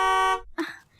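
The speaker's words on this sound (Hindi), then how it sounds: "हॉर्न बजा के परेशान क्यों कर रहे हो?" A car horn sounds one sustained honk outside a house, loud and steady for about a third of a second, then cuts off before brief speech and clatter follow.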